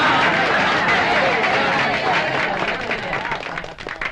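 An audience claps and cheers throughout at a comedy performance, a steady loud wash of applause mixed with crowd chatter that tapers slightly toward the end.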